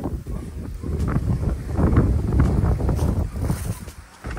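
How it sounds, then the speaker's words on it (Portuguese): Strong wind buffeting a microphone outdoors, heavy low rumbling gusts swelling and easing over a few seconds, loud and close, with no talk. "O vento tá bastante aqui,"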